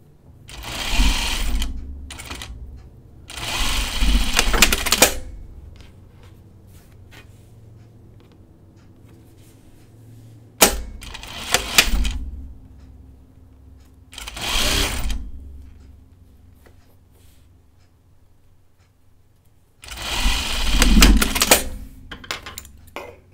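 Sewing machine stitching French seams on a dress, running in several separate bursts of steady whirring with quiet pauses between, close and loud, with light handling clatter in the gaps.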